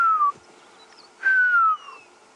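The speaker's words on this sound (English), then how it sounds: "Some southern grey hornbills calling" Southern grey hornbills give two clear whistled calls that slide downward in pitch, close and distinct, with a short quiet gap between them over a soft outdoor background.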